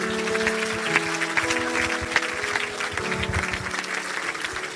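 A church congregation in Evry applauds Jesus with dense, continuous clapping over sustained musical tones. The applause is loud and steady throughout.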